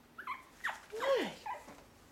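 Shih-tzu puppies about five and a half weeks old whimper and yip nearby in a few short, rising and falling squeals, one longer whine in the middle, over a quiet room.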